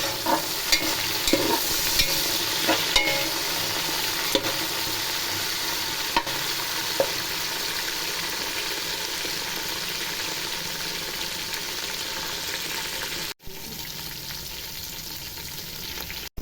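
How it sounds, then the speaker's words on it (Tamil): Green chillies and coriander sautéing in a pan for Kongu Nadu style Coimbatore biryani, a sustained close sizzle with repeated stirring scrapes and clinks, steady and loud. "கொத்தமல்லி பச்சை மிளகா நல்லா வதங்கிட்டுமா"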